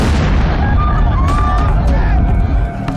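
A propane tank holding 4,400 pounds of fuel blows up at a salt plant, a dense roaring rumble with crackling bursts sustained throughout, overlaid by dramatic narration-style noise and distant voices.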